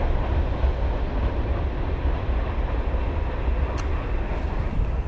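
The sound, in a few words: train passing by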